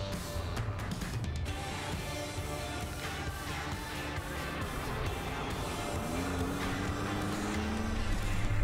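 A 2022 Toyota Tacoma SR5 Trail 4x4 pickup on the freeway, a low steady road and engine rumble heard from inside the cab, quiet at first and building slightly louder toward the end.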